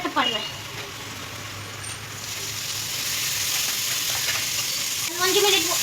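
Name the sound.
frying chicken sukka masala with tomato in pan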